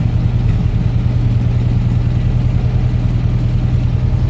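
A car engine idles with a steady low drone and a fast, even pulse, loud and close, unchanging throughout with no other sounds.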